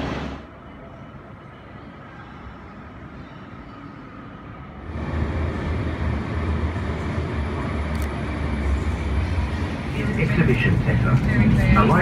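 Sydney light rail tram running near Central Station: a quiet interior hum that rises abruptly into a louder rolling rumble with rattling partway through, building further near the end, with voices talking faintly underneath.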